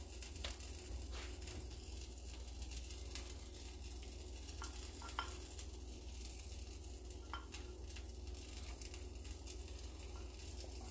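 Tomatoes sizzling in a frying pan while making a cheese omelet, a steady close hiss with occasional stirring clinks and pops, no voices.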